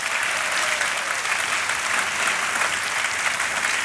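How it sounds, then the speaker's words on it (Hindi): Loud studio audience applause on a quiz show after a contestant wins points, dense and continuous clapping from a large crowd with no pauses. "जोरदार ताली बज जाए इनके लिए"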